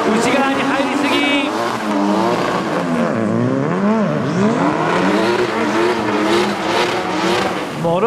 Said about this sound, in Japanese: ちょっと今諸角がインサイド、マシンが戻った。